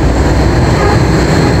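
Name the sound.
new monorail train passing, Cairo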